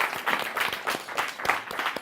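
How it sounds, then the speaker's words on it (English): Brief burst of audience applause after a youth leadership talk, moderately loud clapping from a small crowd over about two seconds. "Let's give her a round of applause"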